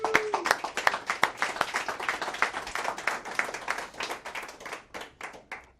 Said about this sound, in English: welcome Stephanie to the stage, and I'll let her introduce herself with a big round of applause